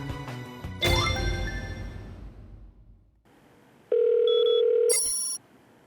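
A telephone rings in a series of bright electronic tones with short pauses between bursts, loud and close, after a musical passage fades out.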